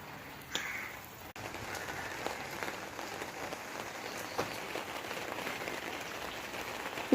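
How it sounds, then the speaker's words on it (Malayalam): Heavy rain falls steadily on surfaces outdoors, a broad, even hiss with scattered drop ticks, faint and alone, with no voices. "നല്ല മഴയുണ്ട്."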